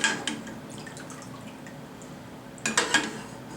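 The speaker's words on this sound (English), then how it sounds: "try to drain most of the water as I go" Water drips and trickles briefly from washed broccoli being drained, then settles into quiet before another short spatter of drips and splashes near the end.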